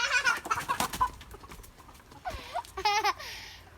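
Several village chickens, hens no longer laying, cluck and squawk in agitated bursts, with flapping and scuffling as they scramble out of the coop; a loud alarmed squawk rises near the end.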